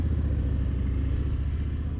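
A Harley-Davidson bagger motorcycle runs steadily on a race track, its engine a loud, close, continuous low rumble with a pulsing beat and no voices.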